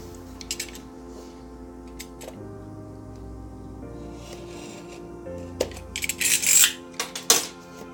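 Unpacking a Gamdias Hermes E1 gaming keyboard from its box: scattered rustles, light clicks and plastic rattles, then a louder flurry of crinkling packaging and handling noises toward the end, close up with no talking.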